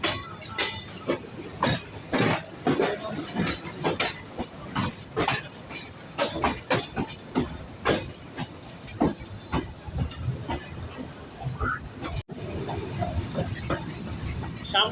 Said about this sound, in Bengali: সামনে থেকে কিন্তু নেতৃত্ব দিচ্ছে American giant EMT, Bangladesh railway 66 সিরিজের অত্যাধুনিক লোকোমোটিভ